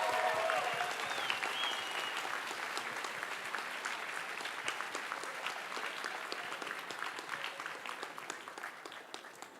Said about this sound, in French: Nous les applaudissons.